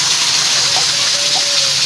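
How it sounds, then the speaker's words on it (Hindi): Milk pours steadily into a wok (kadhai) holding ghee and cardamom pods, making a loud, continuous gushing rush that fills the short stretch without a break. "अब कढ़ाई में मैंने 1 कप घी डाल दिया, उसमें 4-5 इलायचियाँ डाल दी हैं, 1 कप दूध और साथ ही 1 गिलास चीनी का।"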